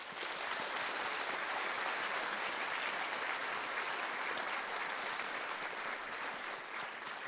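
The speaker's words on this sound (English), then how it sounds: "I'm going to ask everybody, please, to give Dan French a round of applause." Sustained, even applause fills a hall at a school's 60th anniversary celebration, a dense crowd clapping continuously at moderate volume with no voices heard.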